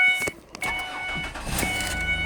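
A 2007 Ford Escape engine with 118K miles cranks and catches after a brief pause, then settles into a steady idle hum with a faint whine, close by.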